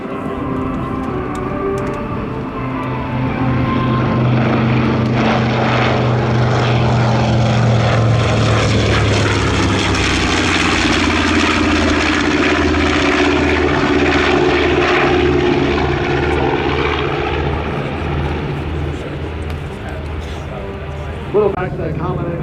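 A propeller aircraft flies at the Geneseo, NY airshow, its engine drone swelling to a loud pass and sweeping in pitch as it goes by, with a person talking over it.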